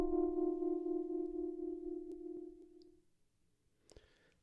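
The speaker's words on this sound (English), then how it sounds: "I played a chord and added some tremolo to it" A sustained synth chord with tremolo, bounced to a sample on an MPC, holds steady with a faint pulsing shimmer, fades out after about three seconds, then a brief click and a short noisy burst follow.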